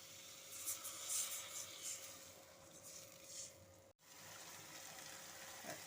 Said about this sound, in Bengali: এখন আমি দিয়ে দিচ্ছি পরিমাণ মতো জল